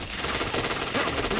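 Rapid gunfire in a shooter video game, dense and continuous bursts close up across the whole moment, with no talk over it.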